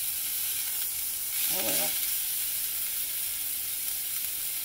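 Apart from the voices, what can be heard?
meatballs sizzling and browning in a hot skillet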